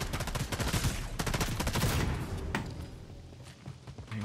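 Gunfire in Fortnite, with rapid bursts of automatic shots from a group of opponents in a trio ranked match. The shots come loud and dense for about two seconds, followed by a sharp crack and then quieter scattered fire.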